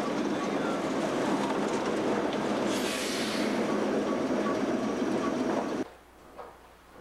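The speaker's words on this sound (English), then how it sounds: "built in 1952 in Darlington with a 350 horsepower English electric diesel" A 1952 Darlington-built diesel shunting locomotive with a 350 horsepower English Electric engine rumbles steadily close by, with rail noise and a brief hiss, then cuts off abruptly near the end, leaving quieter ambience.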